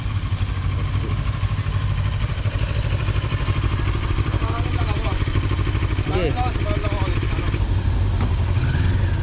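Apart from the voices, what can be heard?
motorcycle engines running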